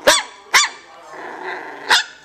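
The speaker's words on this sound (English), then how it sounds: "You barking at me?" A dog gives three sharp barks close by, with a low rumbling growl between the second and third.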